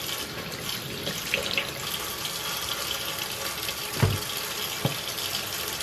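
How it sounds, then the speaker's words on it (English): Tap water runs steadily into a kitchen sink while raw chicken is washed under it, with a couple of brief knocks and splashes standing out against the continuous flow. "wash off this chicken."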